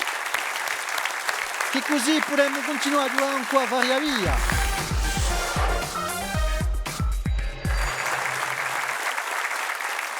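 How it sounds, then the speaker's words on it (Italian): An audience claps at a music contest show in Corsica, with the applause running beneath a presenter speaking and tonal musical sounds. "applaudissements nourris"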